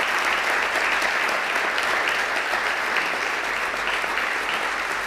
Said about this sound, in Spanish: Fuerte el aplauso entonces al Señor.